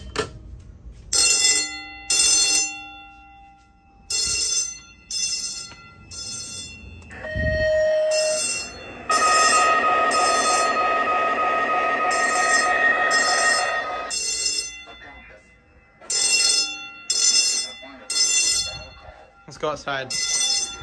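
A fire station alarm bell simulation is played through a loudspeaker, with bursts of loud ringing repeated in a stop-start rhythm, one longer sustained stretch in the middle, and a brief tone before it.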